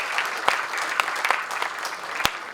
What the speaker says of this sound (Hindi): एक बार पूरा सदन तालियां बजाकर इन नई कॉपलों का स्वागत करें